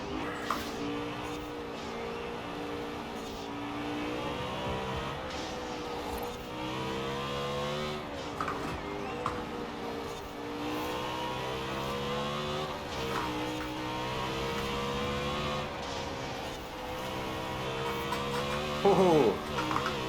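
A BMW M3 GTS engine in Forza Horizon 4 revs hard through repeated rising and falling gear pulls. The racing run goes on continuously and loud, with a short tire squeal near the end and someone talking faintly underneath.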